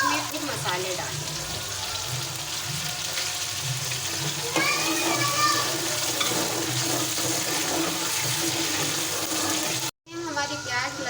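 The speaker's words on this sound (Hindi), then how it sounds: "अब प्याज और लहसुन अदरक का पेस्ट हम इसमें भूनेंगे" Onion, garlic and ginger paste sizzle as they fry for a kofta curry, a continuous crackle with stirring scrapes under it before a sudden brief cut near the end.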